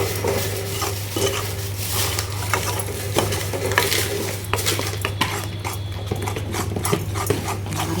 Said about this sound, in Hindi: हम इसको जल्दी से मिक्स कर देते हैं ताकि इसके लम्स ना बने